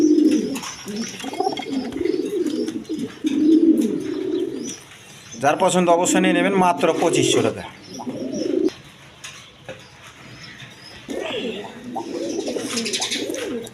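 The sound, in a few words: pigeons cooing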